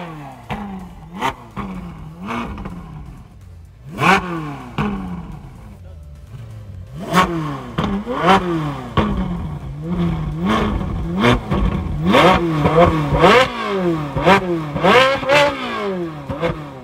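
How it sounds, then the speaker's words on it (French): A red Nissan GTR and other supercars rev hard as they pass by at a Renault factory gathering, with repeated rising engine roars and gear-change sweeps. People talk over the engines. "On a une très belle GTR, la rouge, qui passe aussi derrière."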